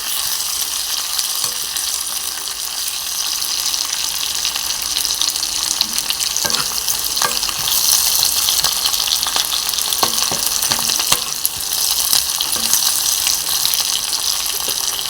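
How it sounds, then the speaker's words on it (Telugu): Curry leaves frying in hot oil for a rasam tempering, a steady close crackling sizzle with sharp pops and spits throughout, no voices. "కరివేపాకు కూడా వేసుకుంటున్నానండి. ఇప్పుడు ఇది బాగా ఫ్రై అవ్వాలి"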